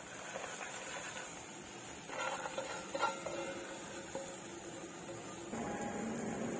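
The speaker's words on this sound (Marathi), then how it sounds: "आता आपण चांगलं मिक्स करूया त्या मसाल्यामध्ये ते मूग." Sprouted mung beans stirred into a pan of cooked masala with a spoon, giving a steady scraping and shuffling with soft sizzling underneath and slightly busier stirring toward the end, no talk.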